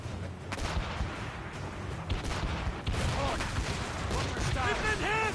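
Cannon volleys boom one after another in Assassin's Creed Rogue, loud and dense, with a shouting voice and whistling effects riding over the heavy barrage.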